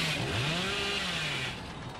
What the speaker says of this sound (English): I want a chainsaw.